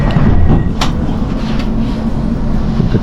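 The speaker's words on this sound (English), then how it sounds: "The train is stopped." A crowded train at a halt, with a steady loud low rumble and hum of the railcar, a constant indoor drone with faint clanks and no clear voices.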